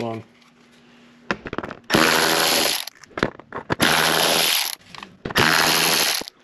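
A power tool whirs in several loud bursts of a few seconds each while removing bolts on an Audi Q5, separated by short pauses with clicks and handling noise.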